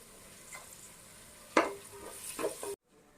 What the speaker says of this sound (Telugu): మంచి సువాసన వచ్చేంత వరకు వేయించుకుందామండి అల్లం వెల్లుల్లి పేస్ట్లో నుంచి. ఒక రెబ్బ కరివేపాకు వేసుకుందామండి.